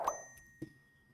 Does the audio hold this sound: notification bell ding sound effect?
yes